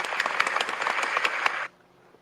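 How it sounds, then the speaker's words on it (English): A canned applause sound effect plays on a comedy podcast, a dense burst of crowd clapping lasting under two seconds that cuts off abruptly into quiet. "Let's get that applause going, man. We got sound effects now."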